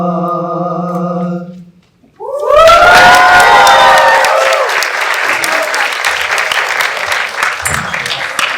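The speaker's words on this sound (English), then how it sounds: "Can we have another round of applause for our fabulous singers?" Loud crowd applause and high-pitched cheering and whoops for singers at a student South Asian cultural show, bursting in right after sustained tones end with a brief gap, then continuing as a dense wash of clapping.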